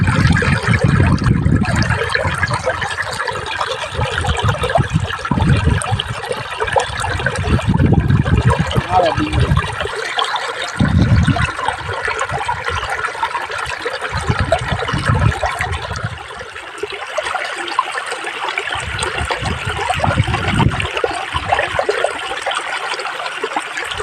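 Floodwater surrounding a Gujarati village pours and gurgles continuously, a loud, close rushing wash with intermittent low rumbles and some voices underneath.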